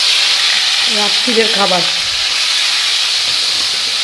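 Potatoes and peas fry in hot oil, giving off a loud, steady sizzle and hiss close by. Someone speaks briefly over it.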